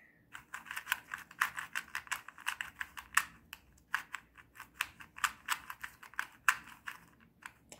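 Roxenda speed cube being turned by hand with corner cutting: a rapid series of crisp plastic clicks and clacks, close and fairly quiet, in irregular bursts across the whole stretch.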